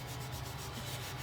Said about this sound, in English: I'm just going to kind of rub it just like you would with a sandpaper